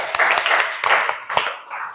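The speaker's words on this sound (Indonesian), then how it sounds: "Tepuk tangan dong untuk semuanya." A classroom group applauds at the end of a history lesson, with a dense burst of close hand clapping that fills the whole moment and then eases slightly.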